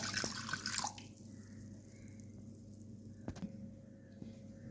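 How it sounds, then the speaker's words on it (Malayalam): Salted water from a tender-mango pickle poured into a container at home: a short, close splashing pour at the start, then quiet with a few faint drips and small clinks. "ഞാൻ പാത്രം എടുത്തു അതിന് മാങ്ങ ഉപ്പിട്ട വെള്ളം കുറച്ചൊഴിക്കുകയാണ് കേട്ടോ"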